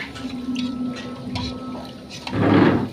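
Water is poured over one kilo of rice to soak it for pulao, a short splashing pour that swells loudly near the end, close by with no talk.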